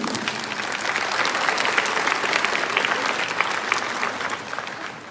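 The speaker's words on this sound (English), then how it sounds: "So if y'all could just give a moment of applause for them." A crowd at a graduation ceremony applauds for teaching assistants, a steady, dense wash of clapping that holds evenly for about five seconds before easing slightly at the end.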